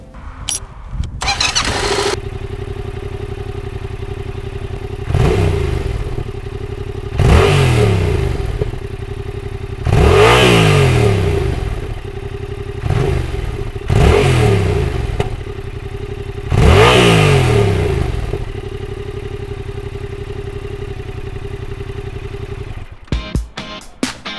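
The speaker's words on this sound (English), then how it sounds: "so that was just the sound of the stock exhaust" A Yamaha MT-07 motorcycle with its stock exhaust idles steadily while being revved in six or so rising and falling blips, each swelling to a loud roar before settling back to idle, close by with no talking.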